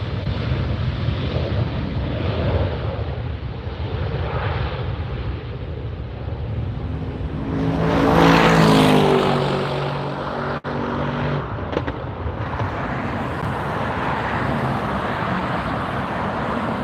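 Jet airliners departing LAX airport, one after another in a double departure, a steady roar over background traffic noise that swells to a loud peak as an aircraft passes close, then eases back to a distant rumble.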